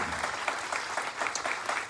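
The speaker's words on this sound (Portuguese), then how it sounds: "vamos bater palmas para Deus" Steady applause from a church congregation during a thanksgiving service, a dense, even patter of many hands clapping together throughout.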